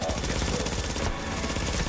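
SMG fire from an Alphabridge build in The Division, a continuous dense rattle of rapid automatic shots filling the whole moment, close and loud, with game effects layered underneath.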